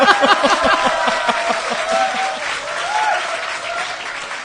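A lecture audience at a live Q&A session applauds, with loud, dense clapping that fades slightly over a few seconds while a voice briefly speaks over it.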